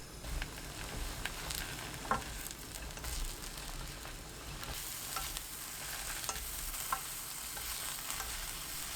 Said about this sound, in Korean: 팬에 식용유 3큰술, 파, 표고버섯 넣고 센 불로 3분 볶아주세요